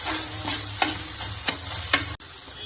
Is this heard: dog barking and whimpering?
no